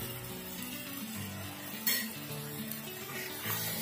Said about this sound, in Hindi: अब इसमें हम डाल देंगे चॉप किया हुआ टमाटर, एक मीडियम साइज का टमाटर है, इसको भी हम फ्राई कर लेंगे